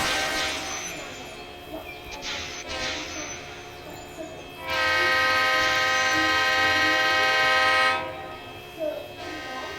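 A video game train rumbles past with a steady mechanical roar, and a long, loud, sustained horn blast sounds in the middle before cutting off, followed by softer rolling noise.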